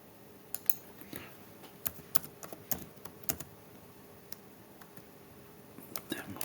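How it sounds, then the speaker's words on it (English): Keys clicking on a computer keyboard, with sparse, irregular taps and short bursts spread over several seconds, faint and close against a quiet background hum. "You have to type in the name exactly"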